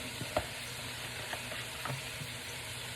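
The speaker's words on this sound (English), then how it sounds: "I have a wok here. I'm going to turn it nice and hot, and I'm going to start with some vegetable oil." Vegetable oil heats in a hot wok, giving a faint, even sizzle with a couple of small pops and no voices.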